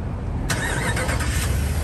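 A Ram 1500 Rebel with a 5.7 V8 starts up: a brief crank catches into a smooth, fairly quiet, steady engine rumble close by, with no talking.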